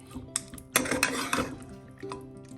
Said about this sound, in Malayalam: അടപ്പ് തുറന്ന് നോക്കാം.